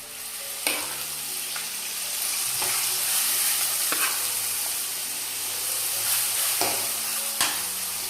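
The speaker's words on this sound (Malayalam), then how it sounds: "നമ്മൾ റെഡിയാക്കി വെച്ചിരിക്കുന്ന ഈ മാങ്ങ അങ്ങോട്ട് ഇട്ട് കൊടുക്കുക." Mango pieces for a Kerala-style mustard mango pickle are stirred in a hot pan, giving a steady close frying sizzle with sharp spoon scrapes and clacks at intervals throughout, with no voices.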